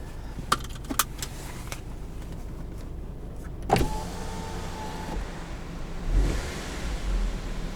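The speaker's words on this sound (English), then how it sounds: "let's go ahead, take this car for a drive." A 2015 Volkswagen Beetle 1.8T sits with its engine at a low hum while clicks, a power window whirring for about a second and a brief rev of the engine are heard close up inside the cabin.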